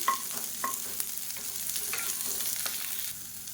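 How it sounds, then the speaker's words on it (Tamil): Handful of long-sliced large onions sautéing in a pan for South Indian chutney, a steady close sizzle with occasional sharp spoon scrapes and stirring clinks near the start, no talk. "இந்த வெங்காயம் நல்லா வதங்கட்டும்."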